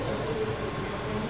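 Interior of a 2024-series stainless steel new generation economy train carriage running along the line, a steady loud rumble of wheels and car body with continuous broadband rail noise, no talk.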